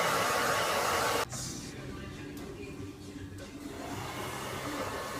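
A hair dryer blows while a bob is styled with flipped-out ends: a loud, steady rushing blast for about a second that cuts off abruptly, leaving a quieter hum and faint handling noise.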